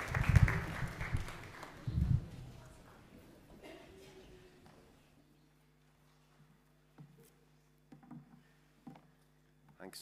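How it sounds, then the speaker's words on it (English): A church congregation gives a short round of applause that peaks early and fades out within a few seconds, leaving quiet room tone with scattered faint sounds. "Round of applause, please,"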